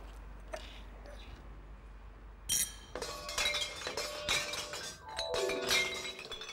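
Glass clinks and crashes as bottles and jars are emptied into a partitioned collection vehicle, a burst of bright shattering clatter with repeated tinkling impacts building over several seconds after a quieter start.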